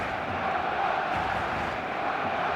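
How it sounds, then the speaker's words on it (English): A steady, even murmur of a large expectant crowd fills a football stadium before kickoff, continuous and distant-sounding, with no standout cheers. "There's a real expectant buzz in the stadium"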